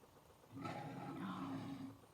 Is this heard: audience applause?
no